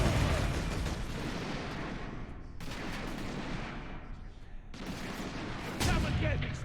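Orks open fire in the Space Marine video game, loud bursts of gunfire in rapid volleys broken by two brief lulls, with a final sharp blast near the end.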